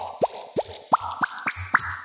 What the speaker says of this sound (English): Nice sort of bubbly sound,